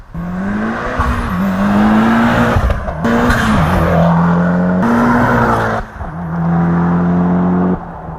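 A loud car engine, from a Lancer Evolution or a five-cylinder turbocharged Volvo S60R, revs hard in repeated bursts, rising in pitch with each acceleration, the exhaust roaring close by with brief drops between pulls.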